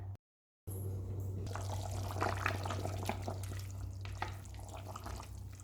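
Chicken boiling in water inside a pressure cooker for biryani, a steady close bubbling and simmering hiss over a low hum, after a brief silent gap at the start, with no talking.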